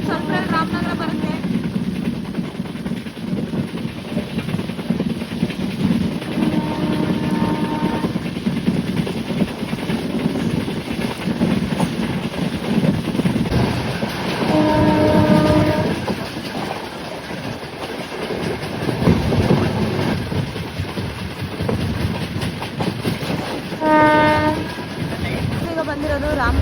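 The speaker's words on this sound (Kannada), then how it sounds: "ಯಾವ ರೀತಿ ಸ್ಪೀಡ್ ಹೋಗ್ತಿದೆ ನಮ್ಮ ಟ್ರೈನು." The Mysore–Kacheguda Express thunders along at speed near Ramanagara, a steady rumbling clatter of wheels with its horn sounding several times, loud and continuous.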